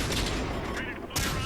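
Rapid autocannon fire from a tier 3 tank in World of Tanks on Xbox One, a dense run of loud repeated shots that dips briefly near the end and then resumes.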